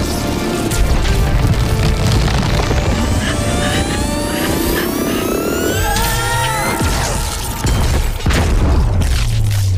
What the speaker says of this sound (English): I'm sure no one noticed that giant blue explosion, right?